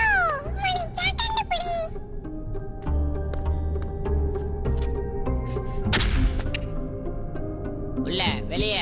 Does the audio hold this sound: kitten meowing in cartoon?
yes